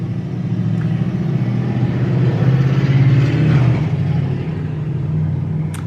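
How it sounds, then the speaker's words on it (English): Heavy road traffic rumbles steadily in the background, a low continuous drone of passing cars and engines that swells slightly midway, with no voices over it. "Traffic's noisy today."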